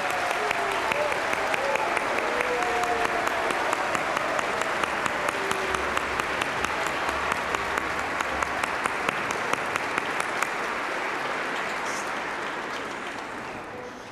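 A concert hall audience at an orchestra's family concert applauds to welcome the tuba soloist, a sustained, even roar of clapping with some sharp nearby claps, slowly thinning toward the end.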